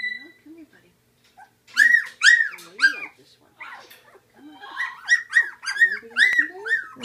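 Young puppies whimpering and yipping close by, high, wavering cries that come in uneven clusters of short squeals with brief pauses between them and no talking.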